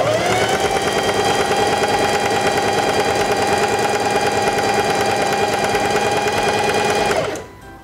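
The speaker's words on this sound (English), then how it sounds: "lower the presser foot," A Singer Heavy Duty 4411 sewing machine runs steadily as it stitches fabric, a loud, close, even mechanical whir with rapid needle chatter that holds for about seven seconds before winding down and stopping.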